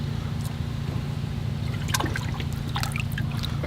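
Lake water is scooped and poured to acclimate pet pacu fish. A continuous trickling pours over a low steady hum, with a few brief splashes and drips near the end.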